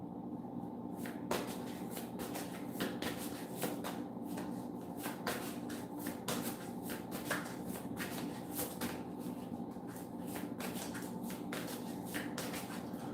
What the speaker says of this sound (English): one more big shuffle of these big papas